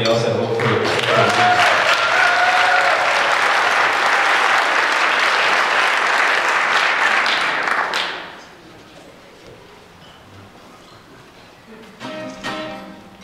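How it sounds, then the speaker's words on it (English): A concert audience at a Hope for Women benefit concert claps and cheers in loud, sustained applause for about eight seconds, then fades to quiet room tone, with a short burst of sound near the end. "Let's give a round of applause for Jared and Elizabeth and everybody else at Hope for"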